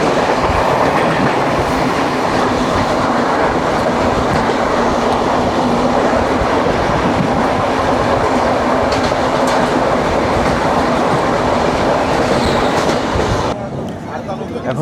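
Train 18030 Shalimar LTT Express rolls past on Indian rails with a loud, steady roar of wheels and carriages and rhythmic clickety-clack. The noise holds continuously for most of the stretch, then drops away abruptly near the end as the last coaches clear.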